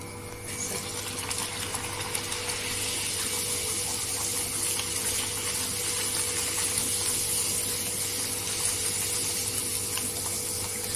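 A puri puffs up while deep-frying in hot oil, giving a soft, steady bubbling hiss that holds evenly throughout at a fairly low level, with no talking.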